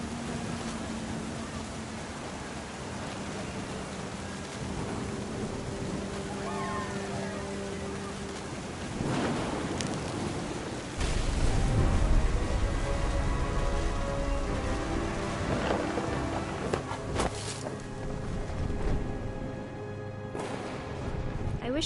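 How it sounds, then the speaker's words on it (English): Rain and thunder from What Remains of Edith Finch at a beach, with a steady wash of rainfall joined by a deep rolling rumble of thunder partway through, low and broad beneath soft music and an occasional voice. "thunder sounded much too close and full of angry power"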